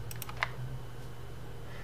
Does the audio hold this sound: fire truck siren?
no